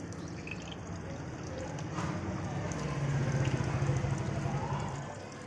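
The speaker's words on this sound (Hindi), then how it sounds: "पाइप यहाँ से, इसमें से आ रहा पानी" Water flows from the pipe of a 300 GPD reverse osmosis plant treating high-TDS water: a steady, fairly loud rush with a faint low hum beneath, swelling slightly toward the middle.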